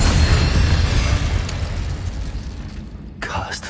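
A Confringo blasting spell from Hogwarts Legacy bursts into a loud, booming explosion with a rumbling low end that slowly decays over a few seconds, followed by a brief sharper burst near the end.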